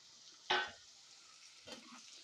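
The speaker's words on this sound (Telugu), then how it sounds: "ఇప్పుడు ఇందులో పొట్లకాయ ముక్కలు అయితే వేసుకుందాం" Cut ridge gourd pieces drop into a pan of fried onions with a sharp burst of sizzling, followed by a softer second sizzle and a low continuous hiss of frying.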